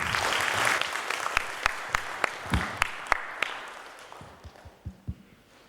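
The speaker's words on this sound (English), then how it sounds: "You should give him a big hand." Applause from a conference audience at a corporate leadership event, a fairly faint burst of clapping that fades as it goes, ending in a few scattered individual claps.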